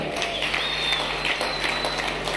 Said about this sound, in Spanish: Aplauda al Rey de Gloria